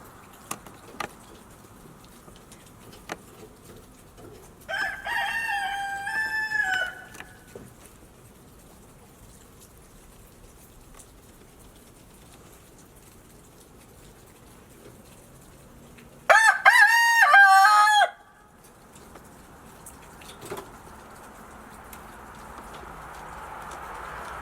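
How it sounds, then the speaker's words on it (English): Roosters crow among a flock of hens basking in the sunshine: two loud, drawn-out cock-a-doodle-doo calls ring out several seconds apart over a quiet yard background with faint scattered sounds. "Notice how they all seem to crow"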